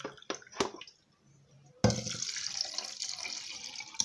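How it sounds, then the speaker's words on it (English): One cup of water pours into a blender jar, a few clinks and knocks first, then a steady close splashing gush. "I'll add 1 cup of water"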